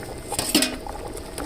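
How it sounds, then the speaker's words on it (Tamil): A pot of chicken biryani simmers with a low bubbling hiss, joined by a few light clinks of utensils against metal, close by and fairly quiet. "நல்லா தான் கொதிக்குதும்மா."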